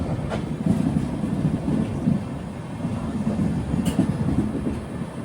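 The Guwahati to Sairang Express runs through Mizoram with a heavy, continuous rumble and a rattling undertone, loud and close, with no speech.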